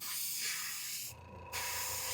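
An airbrush or spray can coats an RC car body in a sharp, close hiss that cuts out briefly and then resumes as a second steady burst.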